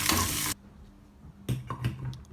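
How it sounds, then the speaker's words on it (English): Curry leaves and onions frying in a hot tadka, stirred in the pan: a loud burst of sizzling, a short lull, then more sizzle with scraping stirs. "We will just give it a good stir till the onions turn soft."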